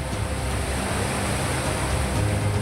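Mumbai's Mithi river in flood after heavy rain: a loud, steady roar of rushing water that stays constant throughout without a break.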